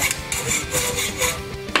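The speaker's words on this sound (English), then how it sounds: "Filing down the bolts." A metal file rasping across freshly cut bolt ends on a lawnmower-blade mace, steady back-and-forth strokes filling the short stretch with a harsh scraping texture, close and fairly loud, no talking.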